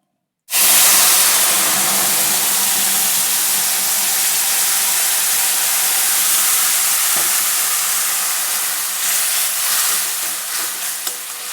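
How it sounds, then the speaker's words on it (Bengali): Spice paste for a Bengali fish curry fries in a hot pan, a loud steady sizzle and hiss that starts abruptly and runs unbroken, with faint stirring scrapes and no talk. "মশলাটাকে সুন্দর করে ভেজে নেবো।"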